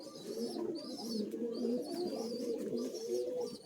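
Madrasi pigeons cooing in a loft, several birds giving soft repeated throaty coos that overlap continuously, close and fairly quiet, with faint higher chirps above.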